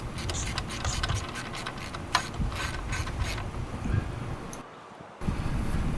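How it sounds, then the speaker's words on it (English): Tightening a dipstick tube bracket onto the fuel injection shield of a 2002 Dodge Stratus during car repair gives a run of close mechanical clicking and ratcheting over a steady background hum, with a brief quiet gap near the end. "tighten down the dipstick tube bracket to our fuel injection shield. So that's what I'm doing now."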